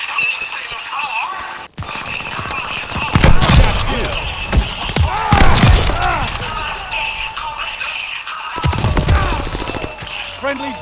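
Heavy gunfire in a Call of Duty: Vanguard battle: repeated bursts of rifle and machine-gun shots crackle across roughly eleven seconds, loud and close at times, with a dense battlefield rumble and shouted voices underneath.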